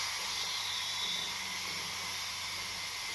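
Steady hiss of steam venting from a T-Fal pressure cooker after the pressure has dropped to zero, a continuous broadband rush with a faint low hum underneath and no speech.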